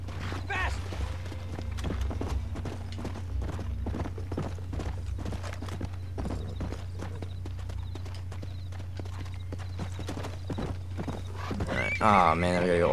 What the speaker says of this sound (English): I got on the wrong horse. He got on mine and he just booked it.